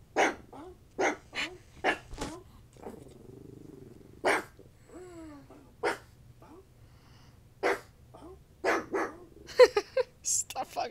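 A pug gives short, sporadic huffing barks and snorts, close and fairly quiet, spaced out with pauses between them; a person makes imitation bark sounds in between.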